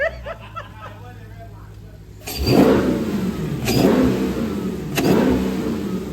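A Dodge 392 Scat Pack V8 fitted with a loud aftermarket intake barks into life and revs hard toward redline several times, roaring up in repeated surges close by, with people talking around it.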